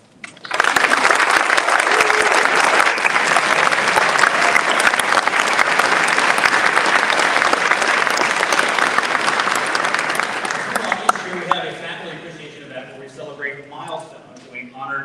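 An audience at the Green & White Awards applauds teaching faculty, staff and administration, a loud dense clapping that holds steady for about eleven seconds before thinning out into scattered claps.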